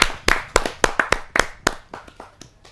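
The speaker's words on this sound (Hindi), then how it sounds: "ऐसे अनूठे कवि को मैं जोरदार तालियों के साथ अभिनंदन करते हुए स्वागत करता हूं" An audience at a Hindi kavi sammelan claps to welcome a poet, a short run of distinct, fairly close hand claps in an uneven rhythm that thins out and fades.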